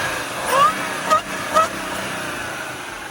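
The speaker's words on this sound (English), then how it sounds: "This one's got the cold air intake, which will make that supercharger way louder. So we'll go ahead and rev it." A 2015 Audi A6 3.0T supercharged V6 with a cold air intake blips its throttle three times in quick succession. Each short rev carries a rising supercharger whine over a steady idle, heard from a moderate distance.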